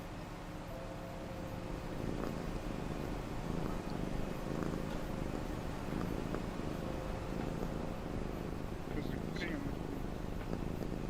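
A cat purrs in the video game Farming Simulator 25, a low, steady rumbling purr that runs continuously for several seconds under ambient game sound and occasional faint clicks.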